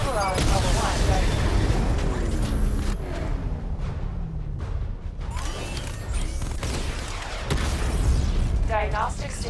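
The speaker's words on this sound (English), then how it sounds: "Charge the missile barrage to level 2 to destroy up to 4 targets at once." Missile barrage strikes in the Batman Arkham Knight video game: repeated booms and explosions with mechanical clanks and creaks, loud and continuous, and game voices are heard speaking over parts of it.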